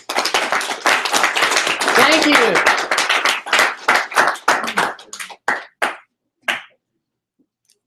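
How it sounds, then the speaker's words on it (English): An audience claps after a management presentation, a burst of applause that builds then thins into a few scattered final claps before silence, with a voice speaking briefly over the start. "They clapped this time."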